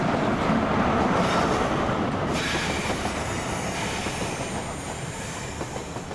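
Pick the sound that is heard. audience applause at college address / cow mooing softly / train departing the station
train departing the station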